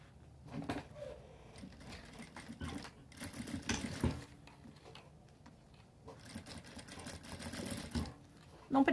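A sewing machine stitches bias binding around a thermal bag in several quick runs of rapid clattering, stopping and starting, close and soft.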